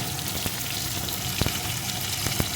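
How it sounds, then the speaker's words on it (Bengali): Koi fish, a firm-fleshed native variety, frying in well-heated oil in a pan: a steady, close broadband sizzle with a few sharp pops and spatters rising above it. "মাছগুলো আমি এপিটোপিট একটু ভেজে নিয়েছি"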